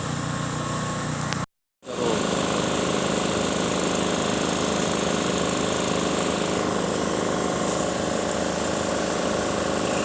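Road repair machinery, likely a jackhammer, runs as a steady, loud mechanical drone through the whole stretch, broken only by a very short gap near the start, with no talk over it.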